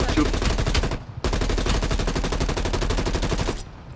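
Loud, rapid automatic gunfire from the Call of Duty Black Ops Cold War shooter game rattles in a long, dense burst. A brief pause comes after about a second, then the firing resumes and stops abruptly near the end.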